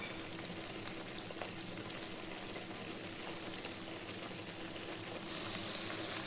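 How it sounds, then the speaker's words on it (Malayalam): Banana flower fritters frying in hot oil, giving a dense, even bubbling sizzle that holds steady throughout and grows slightly brighter near the end, close and moderately quiet. "തിളച്ച് വരുന്നുണ്ട്. അതിലേക്ക് വാഴക്കൂമ്പ് ഇടാം."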